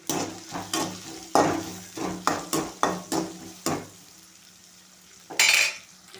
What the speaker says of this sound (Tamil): பச்சை மிளகாய், பொடி பிள்ளைங்க சின்ன வெங்காயம் போட்டதுக்கப்புறம் கொஞ்சம் உப்பு போட்டோம். சின்ன வெங்காயம் வந்துடும். இப்போ வேகட்டும்.